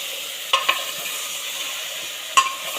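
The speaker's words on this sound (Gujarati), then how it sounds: "ત્યારબાદ એને હલાવીશું." Vegetables in hot oil with salt and turmeric are stirred in a pan, a soft continuous sizzle broken by a few sharp scraping strokes of the spoon.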